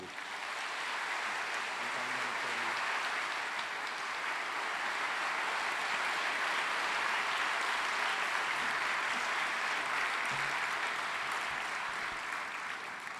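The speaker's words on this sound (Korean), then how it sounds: "큰 박수로" Church congregation giving a big round of applause after a prayer, dense steady clapping from a large crowd that holds at an even level for over ten seconds.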